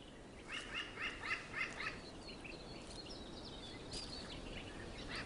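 A group of crows gathered to feed on grubs gives a short burst of several rhythmic calls early on, then quieter scattered calls over a faint outdoor hush.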